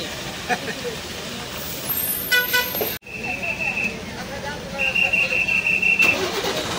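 A bus engine starts up before departure, with a rising mechanical rumble, a sharp cut-off and then steady tonal beeps and running noise, while people talk nearby.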